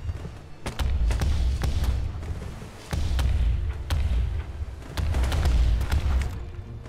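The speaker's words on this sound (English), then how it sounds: "who's firing the cannon?" Booming cannon fire from a pirate ship battle in the video game Captain & Company, several heavy thumping shots at irregular intervals with rumbling low-end bursts over a continuous noisy background.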